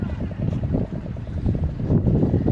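Boat engines and wind near Seethapalem Beach in Vizag as boats head in onto the shore, a steady low rumble and broadband wash under wind noise.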